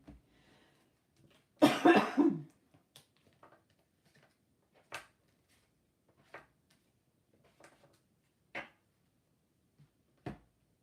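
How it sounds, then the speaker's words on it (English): Coughing from one person, a loud fit of several harsh coughs early on, then scattered single short coughs and throat sounds spaced apart in a quiet room. "I apologise for all the coughing as well."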